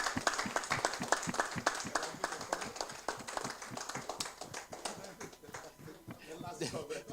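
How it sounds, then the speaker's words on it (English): Conference audience at a medical education event in Lagos applauds loudly, with distinct rhythmic claps standing out over a crowd wash that gradually thins, and voices chattering underneath. "please give yourselves a loud round of applause"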